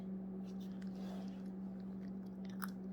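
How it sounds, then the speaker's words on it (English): A dog crunches and chews a hard, crunchy cookie treat up close, with soft repeated bites over a steady low hum. "These cookies are a little crunchy, so it takes them a second to eat the one that's in their mouth."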